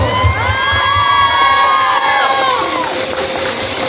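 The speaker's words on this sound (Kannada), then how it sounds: "ಎಲ್ಲರೂ ಚಪ್ಪಾಳೆ ತಟ್ಟಬೇಕು" A festival crowd at a Ganesh celebration cheers and shouts steadily with excited high voices, forming a loud, dense roar that holds for about four seconds.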